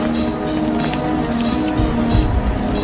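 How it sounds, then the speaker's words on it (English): A rain and snow storm sweeps steadily across an outdoor scene, a continuous wash of falling precipitation with a low rumbling undertone that swells slightly near the end. "I've never seen it rain and snow at the same time."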